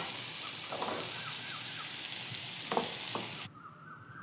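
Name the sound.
chopped onions sautéing in a pan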